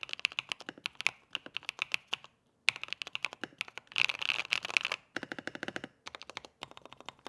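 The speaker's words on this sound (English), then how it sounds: "this was my Lego build of a custom mechanical keyboard" Rapid bursts of clacky typing on a custom mechanical keyboard built from Lego, close and crisp, in uneven runs separated by short pauses.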